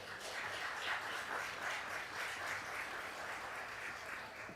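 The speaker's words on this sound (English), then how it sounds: "A round of applause for our youth debaters." Audience applause for youth debaters at an annual debate event, a dense, even wash of many hands clapping at moderate distance, sustained steadily throughout.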